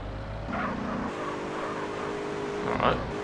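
Car engine from GTA San Andreas droning steadily, rising in pitch at one point, with game music and speech over it.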